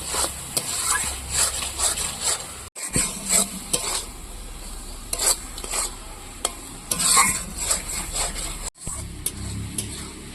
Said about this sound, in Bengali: মশলাটা পনিরের সঙ্গে ভালো করে কষিয়ে নিয়েছি